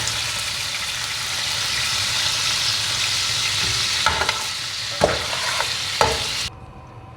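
Meat sizzles loudly and steadily as it goes into a big casserole pot for chili con carne, with a few scraping clatters near the end before the sizzle cuts off abruptly.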